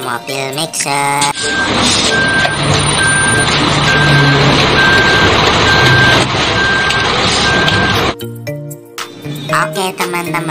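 A toy cement mixer truck sounds its reversing alarm: evenly spaced electronic beeps repeat for about six seconds over a loud, steady motor drone, with other brief sounds before and after.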